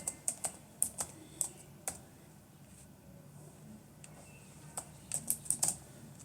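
Typing on a computer keyboard in short bursts of quick clicks with pauses between them, close and fairly quiet, with no talking.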